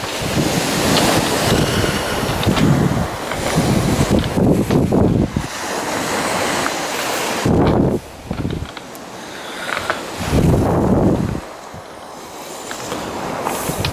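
Seawater surges and breaks at a shoreline on a coastal walk near Culbone and Porlock, loud rushing waves rising and falling in long swells mixed with gusty wind on the microphone.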